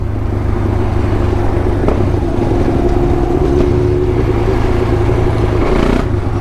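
Motorcycle engine with an Akrapovic exhaust, among a Yamaha MT-07, KTM 690 Duke R and GSX-R 750, droning steadily and loud throughout with rough low rumble and faint wind, no talk.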